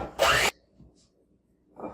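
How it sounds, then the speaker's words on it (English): A spatula scrapes whipped butter down the sides of a mixing bowl while making butter mints: one loud rasping scrape up close, then quiet, then a second scrape starting at the end. "Scrape down all your sides."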